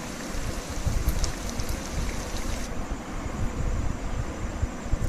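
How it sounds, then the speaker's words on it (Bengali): Thinly sliced paneer pakoras fry in hot oil, a dense, steady crackling hiss like rain with constant small pops, close and uninterrupted. "আমি একবার ভেজে উঠিয়ে ফেললাম,"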